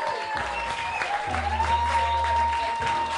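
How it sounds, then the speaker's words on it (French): Audience applause for a comedian at a comedy club on Réunion, a moderate clapping wash under a steady hum and a sustained tone, with voices faintly present. "Un tonnerre d'applaudissements pour lui,"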